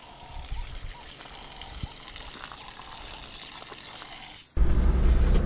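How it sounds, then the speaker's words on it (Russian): Water drains from a broken-down car, a continuous close splashing trickle that swells into a louder, fuller gush near the end. "Пока сливаем воду"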